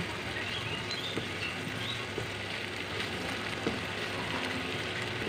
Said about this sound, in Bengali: এখানে আমি পেঁয়াজটাকে বাদামি করে ভেজে নেব।